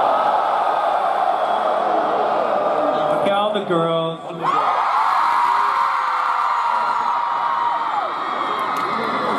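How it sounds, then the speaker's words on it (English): A huge crowd of men at a rock concert screams and cheers in a dense, sustained roar that drops briefly for a moment before swelling back to full volume. "All the guys make some noise"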